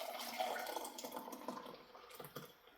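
Hot boiled liquid pours straight into heated canning jars without a funnel, a steady close splashing and trickling stream that shifts in pitch as the jars fill, with no talk over it.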